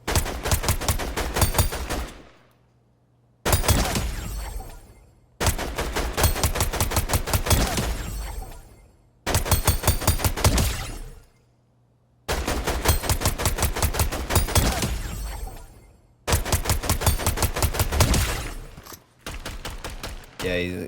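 Rapid automatic gunfire at training bots in Fortnite, fired in about six sustained bursts of roughly two seconds each, separated by short silent gaps, loud and close.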